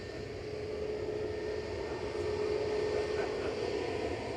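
An Airbus A321neo jet departs Manchester Airport for Geneva, a steady, fairly distant engine roar that rises slightly and holds.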